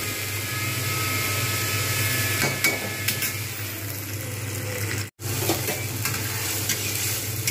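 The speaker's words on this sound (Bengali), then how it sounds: "এবার আমি এইভাবে নাড়তে থাকবো যাতে তলায় না ধরে যায়।" Ridge gourd peel paste fries in oil in a pan while a spoon keeps stirring it, giving a steady close sizzle with scraping strokes and a few sharp knocks, plus one brief dropout.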